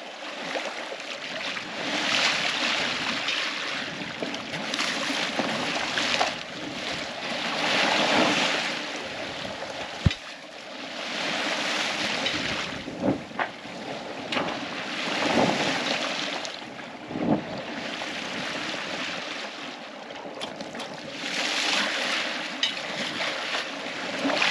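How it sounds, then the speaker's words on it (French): Wind at sea blowing at 13-14 knots, a steady broadband rush with surging gusts over waves and surf, continuous and fairly loud, with brief knocks and no talking. "Le vent a un peu forci là, il y a 13-14 nœuds de vent."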